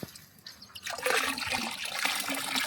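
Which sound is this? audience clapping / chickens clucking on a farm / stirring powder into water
stirring powder into water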